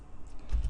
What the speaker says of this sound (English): So essentially click on it and start typing